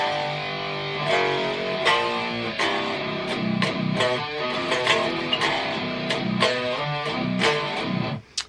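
Electric guitar playing a song's pre-chorus riff, heavy, loud, distorted open chugs and fast palm-muted rhythmic picking, continuous and close before cutting off abruptly.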